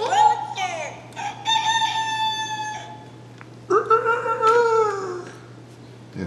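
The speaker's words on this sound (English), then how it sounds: "What's a rooster say?" Farm-animal sound toy plays a rooster's cock-a-doodle-doo crow, two bright drawn-out crows close by, with people speaking around them.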